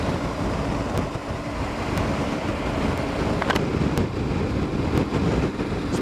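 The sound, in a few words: wind noise while riding a motorcycle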